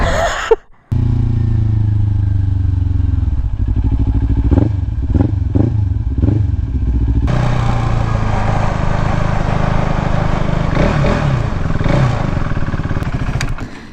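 Sport motorcycle, a Kawasaki Ninja 400 or KTM RC390, ridden with a loud engine note that dips, then rises through several quick revs and holds a strong steady drone, with wind noise.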